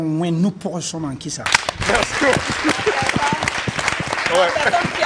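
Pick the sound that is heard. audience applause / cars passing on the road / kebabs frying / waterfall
audience applause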